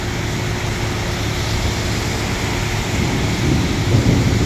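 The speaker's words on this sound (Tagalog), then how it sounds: "O, tagulan na talaga. May bagyo yata mga kamister ko. At panay-panay ulan itong linggo na to." Heavy rain pours steadily during a storm at a construction site, a dense, loud, continuous wash with a low rumble building slightly toward the end.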